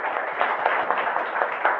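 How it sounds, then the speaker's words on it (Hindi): Dense, steady applause from an audience welcoming new guests at an Indian business signup gathering, a continuous patter of many hands lasting under two seconds with no voices. "यहाँ पर बहुत ज्यादा तालियां बजाई जा रही है ना"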